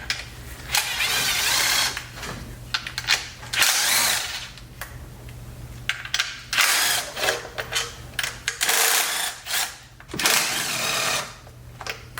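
A power tool spins out 10mm bolts from a Toyota Camry engine during a head gasket job, running in repeated loud bursts of whirring and ratcheting separated by short pauses, with no talking.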